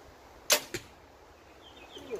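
Arrow loosed from a compound bow being torque tuned: one sharp, close snap of release and a quick second thud a moment later, then quiet room tone.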